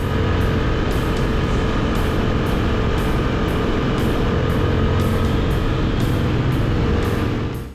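A Honda Fury cruiser motorcycle's engine drones loudly and steadily while being ridden, with a dense, unbroken rumble and rush of wind throughout.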